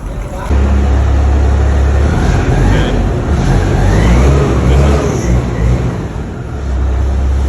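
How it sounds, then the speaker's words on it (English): Underground in a Sudbury copper-nickel mine, an autonomous bucket loader runs with a loud, steady engine roar and deep low rumble throughout, its tone shifting slightly as it works. "Autonomous bucket."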